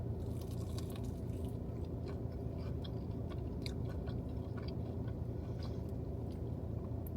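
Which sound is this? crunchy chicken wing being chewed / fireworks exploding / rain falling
crunchy chicken wing being chewed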